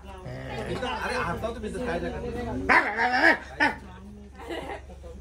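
A dog barks and yips a few times in short bursts at a family's Ganpati visit, heard under steady, close conversation.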